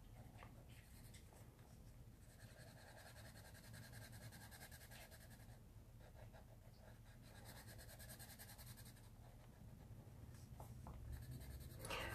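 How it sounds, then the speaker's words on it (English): A Prismacolor colorless blender pencil rubs over colored pencil work on paper, a very quiet, continuous scratchy scribbling with steady back-and-forth strokes, close and alone. "Just going to color over everything with the blender pencil."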